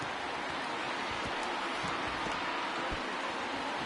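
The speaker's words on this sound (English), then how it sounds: "it's raining" Steady rain falls at a baseball game, a constant broadband hiss with a few faint thumps and crowd murmur beneath, no voices.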